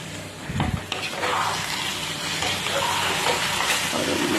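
Eggs frying with masala in a covered pan, a steady close hiss and sizzle that runs throughout with a brief bump near the start.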